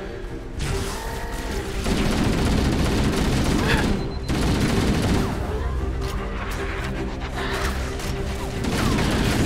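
Rapid bursts of gunfire from Halo: Combat Evolved play loud and close, with sustained automatic fire, booms and brief pauses, alongside other game sound effects.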